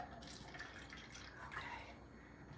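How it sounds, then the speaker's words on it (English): Freshly made ginger juice pours from a low-cost juicer into a container, a soft steady liquid trickle and splash heard close and fairly quiet, continuous throughout. "let me just pour"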